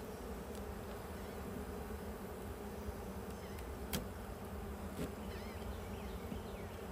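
Honey bees hum steadily around a hive with honey supers, a dense continuous buzz with a few individual bees passing close, quiet overall and with no voices.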